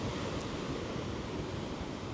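Strong wind buffeting the microphone mixed with rolling surf at a Maldives resort beach on a rainy day, a dense steady roar with no breaks, loud and close.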